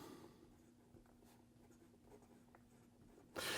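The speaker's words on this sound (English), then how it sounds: "So here we go with the writing sample for the Laban 300 Skeleton" Fountain pen with a broad stainless steel nib writing on paper, a faint, steady scratching close by with a soft rustle near the end and no talk.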